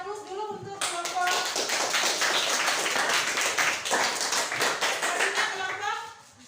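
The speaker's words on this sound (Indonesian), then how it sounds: "silakan beri aplaus dulu untuk kelompok" A classroom of students claps for a presenting group after a voice speaks briefly; dense, steady applause rises quickly and carries on for several seconds before tapering off.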